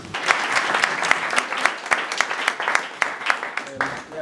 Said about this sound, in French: Je crois qu'à ce titre-là, on peut l'applaudir.